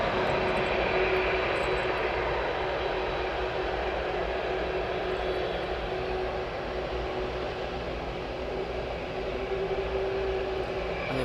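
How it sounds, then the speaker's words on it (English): A Boeing 747 pushes back at an airport, its engines giving a steady, loud broadband roar with a faint hum, continuous throughout with no talk. "the 747 is pushing back"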